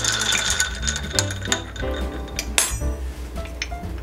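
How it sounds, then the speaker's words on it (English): A spoon stirs apple cider with coconut rum and spiced rum in a glass, making a run of light clinks and taps against the glass over four seconds, close by. "Give it a quick stir."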